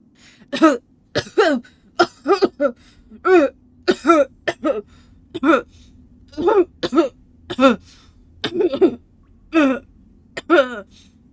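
A voice coughs over and over, about a dozen short, harsh bursts in an uneven rhythm, close and fairly loud, with brief quiet gaps between.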